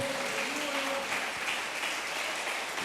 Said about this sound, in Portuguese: aplauda mais uma vez no nome do Senhor